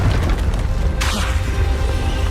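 Confringo blasting spell from the Hogwarts Legacy video game, going off as a single sharp crackling burst about midway, over steady game ambience.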